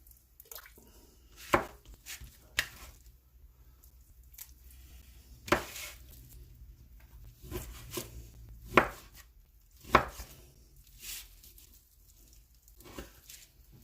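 A knife chops food into small cubes on a board, with sharp separate thuds landing at an uneven, unhurried pace over a quiet background and no talking.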